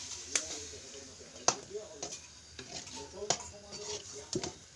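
A spoon stirs curry in a pan with sharp, irregular clinks and scrapes against the metal and a faint sizzle beneath, under quiet talking.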